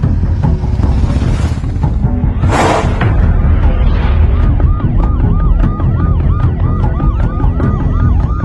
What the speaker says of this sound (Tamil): விக்னேஷ் முதல்ல ஆம்புலன்ஸ் சீக்கிரமா ஹாஸ்பிட்டல் போக சொல்லு.